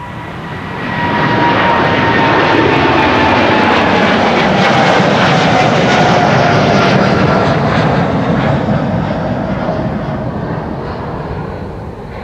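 A KLM Boeing 787-10 Dreamliner departing Amsterdam Schiphol on a flight to LAX builds to a loud, sustained jet roar within a second and then slowly fades as it climbs away.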